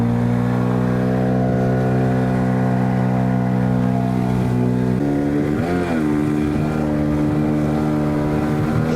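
A fully loaded Flagman 420 catamaran motorboat runs through waves with its outboard engine droning loud and close and steady. Partway through, the engine pitch drops abruptly and then wavers as the hull rides the swell.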